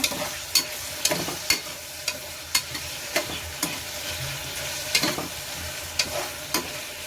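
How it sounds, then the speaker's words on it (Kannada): Tomatoes are stirred into a sizzling pan for dal biryani, and a spoon scrapes and knocks against the pan in a fairly regular rhythm of sharp taps over the steady frying hiss, close up. "ಈಗ ಟೊಮೆಟೊ ಹಾಕೊಂಡ್ಬಿಟ್ಟು ಕಲ್ಸ್ಕೊಬೇಕು"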